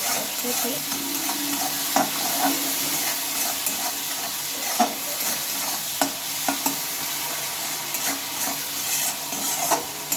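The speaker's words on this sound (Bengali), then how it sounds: "এবার একটু ভালো এটাকে মিশিয়ে নেবো" Hilsa fish pieces are worked together with salt and turmeric powder, giving a continuous wet stirring hiss broken by occasional clicks and taps, steady and close.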